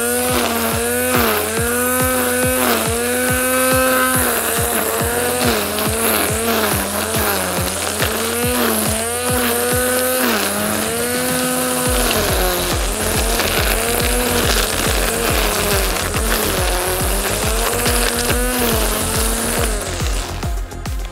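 A Parkside string trimmer from Lidl trims grass edges with a loud, continuous buzzing whine whose pitch rises and dips as the line cuts, steady throughout with no talking.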